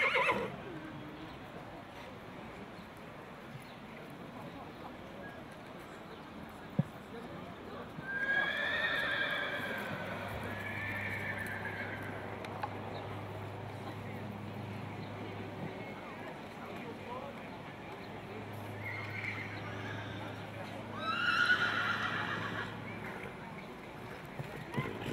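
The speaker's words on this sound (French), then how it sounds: "Ah bah voilà ce que c'est qu'un cheval de course" A racehorse whinnies twice, some seconds apart, with hooves clip-clopping faintly in a quiet outdoor setting while people talk nearby.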